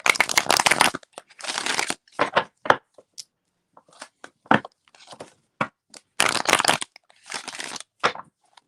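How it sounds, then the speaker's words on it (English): Tarot cards are shuffled by hand in uneven bursts: dense riffling and rustling runs alternate with short snaps and taps, close and fairly loud, with no one talking. "Let's shuffle about 2 more times."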